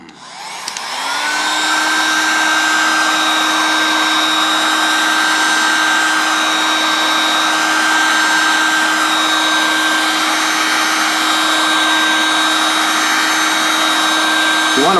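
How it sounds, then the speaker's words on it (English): A heat gun blowing hot air while a sheath is molded in a field craft project, a loud steady whirring hiss with a constant motor whine that starts and holds for the whole stretch, close. "You want to play the heat gun back and forth so you heat the whole thing evenly"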